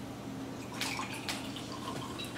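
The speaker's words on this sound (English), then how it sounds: "I'll pour for you." Corona Hard Seltzer Limonada is poured into a glass, giving a few short splashy bursts and light fizzing over a quiet room background, with no speech.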